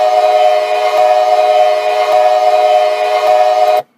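A custom train horn built for Train Simulator 2016 sounds as one steady, loud, close chord that holds evenly with slight pulsing at each loop point, then cuts off abruptly.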